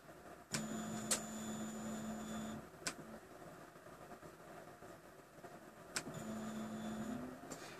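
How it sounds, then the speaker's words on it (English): Stepper motor on a RepRap Prusa Mendel 3D printer extruder feeding filament, two short faint whirring buzzes with a steady tone, each lasting about two seconds, separated by quiet pauses and a few soft clicks. "I'm going to extrude it a little bit ways further here. A little ways further. In 5 millimeter increments."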